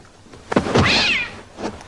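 A cat meows once, a long rising-and-falling call at close range, preceded by a soft thump, in a 1990 suspense TV film set at sea.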